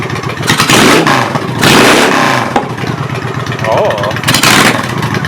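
A Honda Shadow motorcycle with dual carbs and velocity stacks idles and revs in three strong bursts, loud and close, with a brief spoken exclamation between revs.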